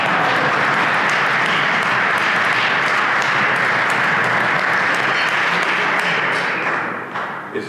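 An audience at an architect's inauguration ceremony breaks into sustained, dense applause, loud and continuous for several seconds before tapering slightly at the end.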